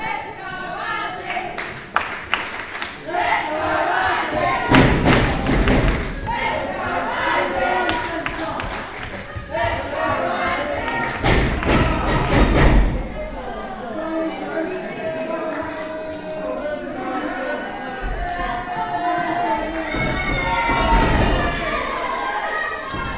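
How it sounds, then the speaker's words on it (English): A wrestling crowd chanting in a large arena while a wrestler stomps along in time, rhythmic loud thumps in bursts over steady crowd noise, with a commentator talking throughout. "The crowd chanting for Azzy and Sensor stomping away to the same tune."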